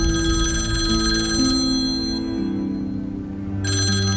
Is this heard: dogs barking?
no